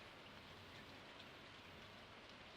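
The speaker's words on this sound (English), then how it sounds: "Sounds like it's raining. I think it's raining." Steady rain falls in the Stardew Valley video game, a soft, even hiss of dense droplets filling the whole stretch at low volume with no voices over it.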